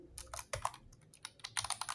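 Quick, steady clicking of keys on a USB keyboard connected to a phone running Termux, close and fairly soft with no talking.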